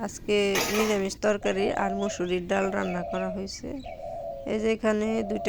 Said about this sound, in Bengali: ঘুঘু কি সুন্দর ডাকতেছে